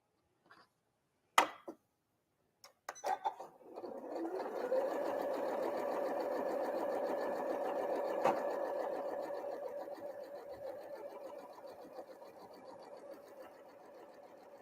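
A sewing machine runs steadily while stitching a quilt block for a Diamond Star pattern, a few clicks and handling taps first, then a continuous close whir that fades slightly toward the end.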